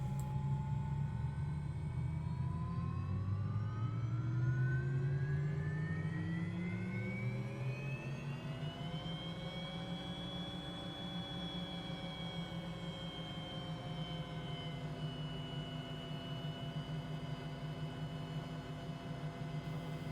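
500E helicopter's turbine engine spooling up as the throttle is rolled slowly to maximum, a rising whine climbing over several seconds then holding steady, with a low rumble underneath and no talking.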